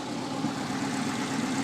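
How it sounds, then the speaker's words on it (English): A Subaru-converted van engine idles steadily, a low continuous rumble with even texture and no revving, heard up close and alone. "well the van is now running. It's idling"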